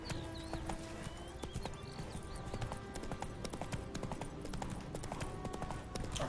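Horse hooves clip-clopping in The Witcher 3 video game, a quick steady trot of hoofbeats close by with faint game ambience underneath.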